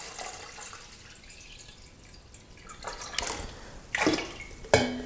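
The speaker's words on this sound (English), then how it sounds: "And now just add a 2 liters of the water." Two liters of water go into an ADI still used to make lavender hydrosol; quiet trickles build into splashing and sloshing pours near the end, close by and with no talk.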